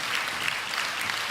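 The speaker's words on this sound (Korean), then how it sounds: "다시 한번 큰 박수로" A church congregation applauds loudly and continuously, a dense wash of clapping with no pauses.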